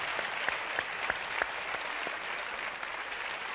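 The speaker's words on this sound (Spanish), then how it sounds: "Esa ovación fuerte para Teo García." A studio audience on a Spanish TV contest show claps in a short, steady ovation, with a few sharper individual claps standing out near the front.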